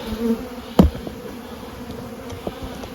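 Honeybees at a pair of beehives during spring feeding, a steady close buzzing hum that runs the whole time, with one brief thump near the start.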